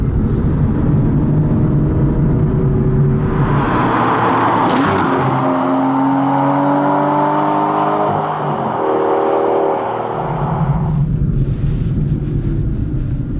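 An Aston Martin V12 Vantage S drives along a road, its engine note rising and falling through gear changes as it passes, with road and wind noise around it and no talking.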